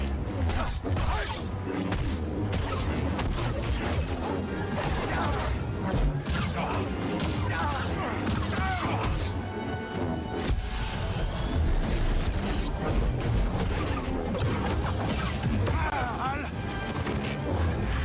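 An explosion tears through dense combat in Star Wars Jedi Survivor, a loud crash buried in a continuous barrage of game effects, impacts and music that stays at full level throughout, with a voice talking over it.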